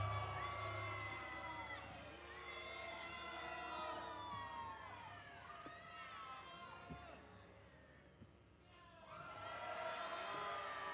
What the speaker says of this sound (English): a little mixed decision here from the crowd. Some boos, some yays